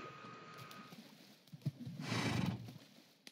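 A Minecraft horse gives a breathy, rising whinny and snort amid faint hoof shuffles, fairly quiet and a little distant.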